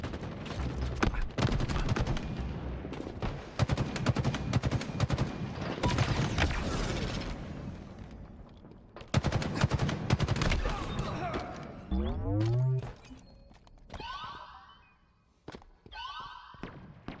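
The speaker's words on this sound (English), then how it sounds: "Stalker rifle shots going down." Stalker rifle shots from a Halo esports match, rapid bursts of gunfire mixed with thuds, mechanical weapon sounds and game effects, loud and busy, with a commentator talking over much of it.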